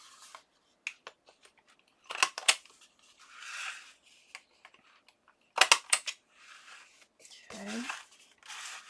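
Scissors trimming a paper page for an accordion booklet, with several crisp close snips in short bursts and light paper rustling between the cuts.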